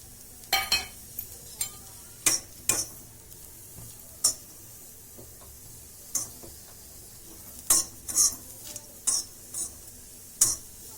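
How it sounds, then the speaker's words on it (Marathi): An onion dry-roasting in a pan is stirred, giving a close run of sharp scraping and clattering strokes at an uneven rhythm over a faint steady sizzle. No one speaks. "आता आपण कांदा भाजायला घेऊ"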